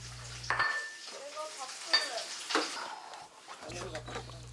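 Tofu slices pan-frying, a steady close sizzle with stirring and utensil scrapes against the pan, rising and falling over a few seconds beneath a low hum.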